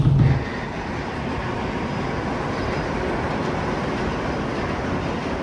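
Shonan Monorail suspended train running, a loud, steady rumbling roar heard from inside the car, with a brief heavier thump at the start.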